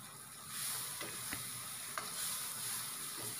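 Tomatoes with coriander cook in a pan for egg bhurji, giving a soft, steady sizzle punctuated by a few light clicks and scrapes from stirring.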